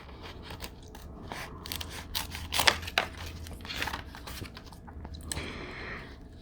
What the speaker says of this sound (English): I'm gonna use my curved scissors on this one